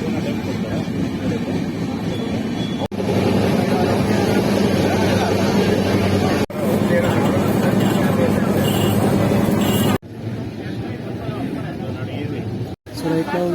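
Inside a passenger train travelling from Bengaluru toward Chennai, a constant loud rumble and clatter of the carriage runs throughout, broken by a few abrupt cuts, with a background babble of voices.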